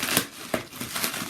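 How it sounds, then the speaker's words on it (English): Tightly wound bubble wrap crinkles and crackles as it is pulled off an Onkyo Integra A-933 amplifier, a few sharp crunches standing out from a steady rustle, close and fairly quiet. "All bubble wrapped, really tightly bubble wrapped"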